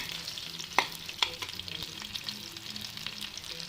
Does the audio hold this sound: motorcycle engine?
no